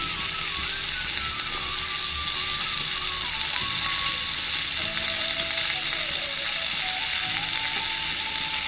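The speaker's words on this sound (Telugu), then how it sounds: "ఈ కూరగాయలు వేయించుకోండి నేనైతే దీంట్లోనే వేస్తున్నాం ఇప్పుడు దీంట్లో కొబ్బరి పొడి వేస్తున్నాం" Vegetables fry in a pan with coconut powder for a tomato vegetable sambar masala, giving a loud, continuous close-up sizzle with a thin wavering whistle-like tone drifting above it and no voices.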